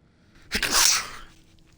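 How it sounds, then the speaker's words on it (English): A single close, sharp sneeze bursts out after a brief quiet intake during Alan Wake 2 gameplay, then fades back to near silence. "Sorry, I got sneeze."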